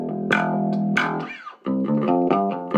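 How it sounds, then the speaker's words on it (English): Distorted, clipping notes from a Sound City SC30b bass amplifier, buzzing and gritty, played in a few short phrases with a brief dip to near silence midway. "I should be able to get some sort of distortion. Can you hear that distortion? That's clipping the signal"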